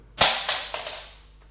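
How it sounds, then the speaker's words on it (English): A carbon fiber saddle on a flamenco guitar with Wittner pegs gives a sharp, bright attack followed by a few quick repeated accents, then a short ringing decay, close and alone. "and this is the sound of the carbon fiber."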